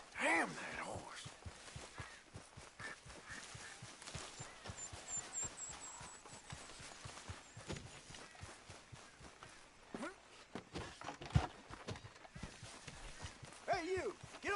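Faint, steady clip-clop of horse hooves walking in Red Dead Redemption 2, mixed with soft breaths and sighs.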